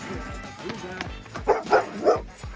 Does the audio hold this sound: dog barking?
yes